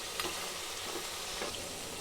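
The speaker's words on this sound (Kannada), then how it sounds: "ಟೊಮೆಟೊ ಹಾಕಿ ಚೆನ್ನಾಗಿ ಮಿಕ್ಸ್ ಮಾಡ್ಕೋಬೇಕು" Tomato being mixed into mutton curry frying in a pan, a steady hissing sizzle with a few soft scraping strokes of a spoon, close and continuous.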